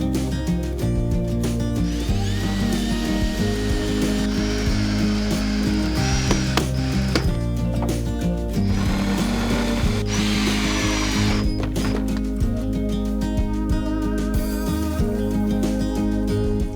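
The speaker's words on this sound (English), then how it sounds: "So then just some few screws on the inside here and it should be done." A power drill drives screws into the inside of a small greenhouse built from wooden pallet frames, whirring and ratcheting in steady bursts up close for the whole stretch, with no talk.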